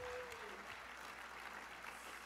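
Worshippers in a church service clap their hands together in praise, a soft, continuous spread of applause heard at a distance, with a brief tone fading out at the start.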